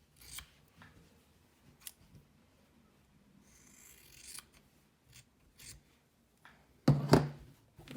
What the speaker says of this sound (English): you're gonna cut off the corners after the stitch where you don't need them